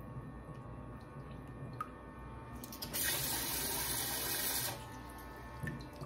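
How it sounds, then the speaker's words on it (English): A leaking shower head dribbles water in a steady hiss, then a louder, fuller rush of running water swells for a couple of seconds before easing back to the thinner trickle. "this one leaks a bit, you can see it's dribbling quite badly."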